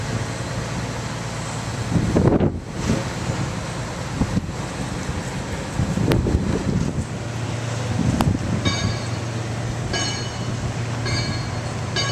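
Steady wind buffets the microphone at a Jersey Shore beach in Seaside Heights, a constant rushing roar with occasional louder gusts and faint distant clanks from construction.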